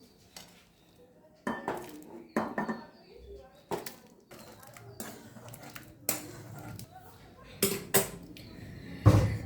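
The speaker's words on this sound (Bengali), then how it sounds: "এবার এটাকে একটা বাটিতে ট্রান্সফার করে নেব।" Cooked chickpea dal scooped from a pot into a bowl, with scattered clinks and scrapes of a spoon against metal and ceramic, sharp knocks repeating irregularly at close range.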